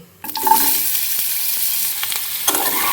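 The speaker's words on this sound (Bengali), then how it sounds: "এই যে এই সামান্য একটু তেলের মধ্যে দিচ্ছি একটু গোটা জিরে ফোড়ন এরপর কেটে রাখা সবজিগুলো দিয়ে দেবো" Whole cumin seeds and chopped vegetables hit a little hot oil with a sudden loud sizzle that holds steady and close, flaring again near the end as the pan is stirred.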